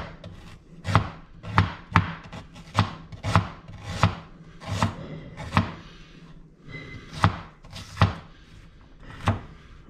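Fresh ginger being chopped with a knife on a wooden board, about fifteen sharp, evenly spaced cuts close by, each a distinct knock with brief pauses between, no voices over it.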